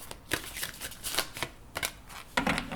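A Witch's Wisdom oracle deck being shuffled, with close, crisp bursts of riffling cards repeating every half second or so, with no talk.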